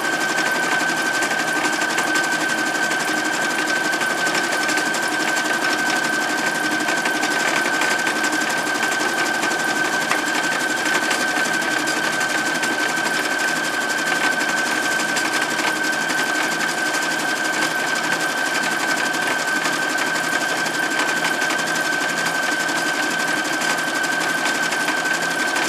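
A sewing machine runs without a break on a wide, short zigzag stitch around the edge of a cloth pad, humming and whirring at close range for the whole stretch with no talk.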